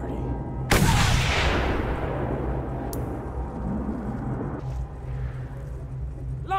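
A single heavy gunshot booms close up in the Mad Max video game, followed by a long rumbling decay, then faint game ambience with a softer thud later on.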